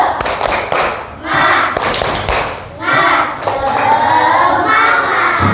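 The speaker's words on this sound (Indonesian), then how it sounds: "biar lebih happy kita tepuk semangat" Children in a primary school classroom perform a rhythmic 'tepuk semangat' clapping cheer, with bursts of clapping and chanted voices in a repeating pattern, loud and close.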